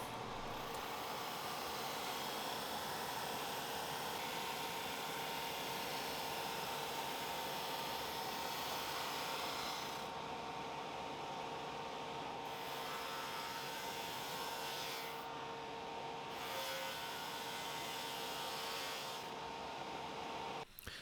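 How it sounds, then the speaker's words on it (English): A drum sander runs over wooden picture frames in a workshop, giving a loud, steady whooshing roar that holds for the whole stretch and dips briefly in pitch and texture between passes. "I'm going to bring them to the drum sander and just do a few passes on either side to get everything really nice and flat"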